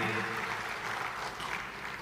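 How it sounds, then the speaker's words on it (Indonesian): An audience at an Indonesian government event claps for a minister, a dense, fairly soft wash of applause filling the short stretch without a break. "Berikan sekali lagi tepuk tangan untuk Bapak Nusron Wahid."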